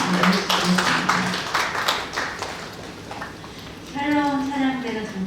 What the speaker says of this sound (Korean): 박수 한번 해주시겠습니다